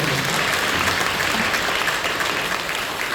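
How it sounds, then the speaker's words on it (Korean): Church congregation applauding in a worship hall, a dense steady wash of clapping from many hands that fills the whole stretch at even loudness. "박수로 영광해 주십시오."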